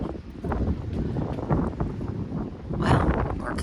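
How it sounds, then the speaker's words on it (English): Gusty wind blowing outdoors on a windy day, a steady roar of broadband rumble and microphone buffeting that swells in a stronger gust near the end, with no voices. "This wind, you can't see it."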